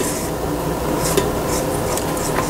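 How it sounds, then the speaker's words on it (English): A spatula scrapes down the sides of a mixing bowl of cake batter in continuous close rubbing strokes, with faint soft scrapes repeating. "Now I want to scrape down the sides of my bowl."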